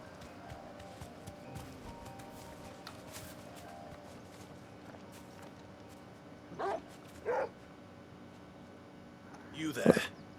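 A dog barks and whimpers in short bursts, a couple of yelps and then a sharper bark near the end, over a low indoor background with faint footsteps and quiet voices.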